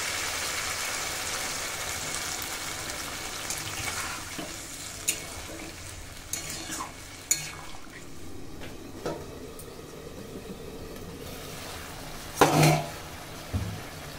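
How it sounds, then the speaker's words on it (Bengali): Water goes into a pan of well-fried desi chicken for boiling, making a steady rushing sizzle that settles into a quieter bubbling simmer, punctuated by a few sharp clanks of utensils. "মাংসটা সেদ্ধ হওয়ার জন্য দিয়ে দেবো জল।"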